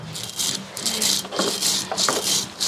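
Spinach paste for thokku being ground, cooked in a clay pot over a wood-fired stove: repeated close rasping, grinding strokes in uneven bursts, loud and gritty with short gaps between them.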